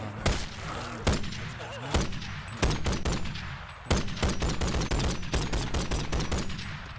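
Big-caliber gunfire in the VR game Bonelab: loud, sharp shots spaced irregularly at first, then coming in a quicker, tighter string toward the end, close up with no talk over them.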